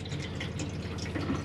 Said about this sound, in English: as long as the pump's on, you'll get pressurized water